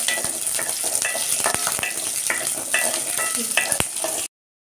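Onions and chillies fry in a pan with a bright, crackling sizzle punctuated by frequent sharp stirring clicks and scrapes, close and continuous until it cuts off abruptly near the end.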